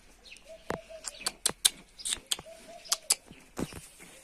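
A two-year-old fantail pigeon with fourteen tail feathers gives soft, low coos, broken up by sharp clicks and fluttery rustles from close by.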